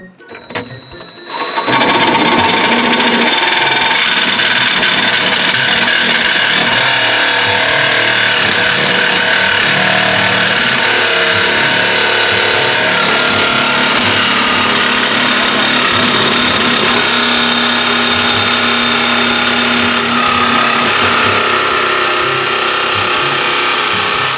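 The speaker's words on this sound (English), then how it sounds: "reciprocating saw." A reciprocating saw cuts inside an older motorhome, a continuous harsh buzzing rasp with mechanical clatter that starts after a brief pause and runs steadily, loud and close.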